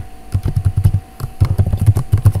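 Fingers type code on a computer keyboard in quick irregular bursts of close, crisp key clicks, with a brief pause before the tapping resumes.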